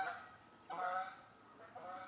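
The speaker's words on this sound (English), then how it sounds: "yeah, the geese are agreeing." Geese honking near a campsite, three separate nasal honking calls spaced about a second apart, clear but at moderate distance with quiet between them.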